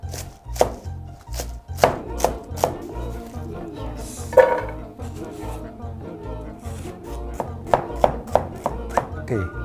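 Rapid knife strikes dice celery into fine brunoise on a cutting board, a steady close rhythm of crisp chops with a few sharper accents.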